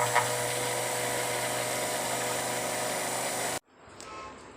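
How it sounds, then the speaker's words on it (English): A handheld blender whirs steadily as it mixes lye into oils for handmade coffee mocha soap, loud and continuous before cutting off abruptly, followed by faint handling noise. "So now we'll just give this a mix again with the blender."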